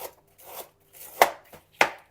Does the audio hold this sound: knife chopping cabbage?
yes